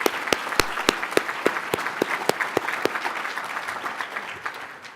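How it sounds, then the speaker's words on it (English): An audience at a NeighborWorks America event gives a round of applause, a few sharp, close claps first and then a dense crowd clapping that slowly fades over about five seconds. "let's give her a round of applause anyway"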